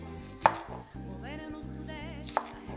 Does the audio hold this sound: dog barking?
no